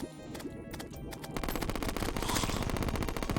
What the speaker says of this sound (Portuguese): O DPS dessa metralhadora aqui é absurdo.